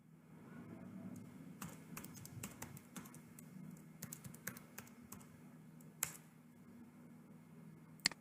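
A password is typed on a computer keyboard, with quick irregular key taps in bursts and pauses, close and fairly soft against a faint steady hum.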